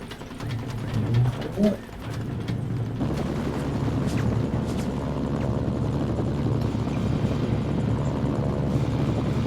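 A steady video game helicopter rotor drone with a fast, thudding chop fills the background in Mercenaries: Playground of Destruction, while brief pigeon-like cooing and a few clicks appear early on.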